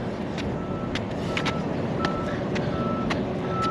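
A truck backing down a road, its reversing alarm beeping at an even, regular pace over a steady rumble of traffic and wind.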